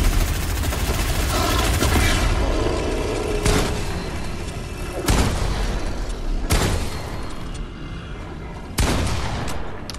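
Gunfire in a video game: several sharp, loud shots spaced a second or two apart, cutting through a dense, noisy game soundscape with no speech.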